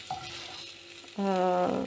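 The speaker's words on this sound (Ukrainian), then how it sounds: "Так само я обсмажу зараз грибочки з цибулькою на олійці." Mushrooms and onion fry in oil in a pan, giving a soft, even sizzle that grows louder and denser partway through, with a faint tonal hum in the background and no talk.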